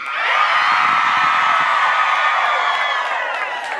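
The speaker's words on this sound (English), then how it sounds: "on the count of 3, I want you to scream as loud as possible" An audience of women scream as loud as they can together on a count of three, a dense, loud, sustained roar of high-pitched yelling and whooping that fills the room for several seconds.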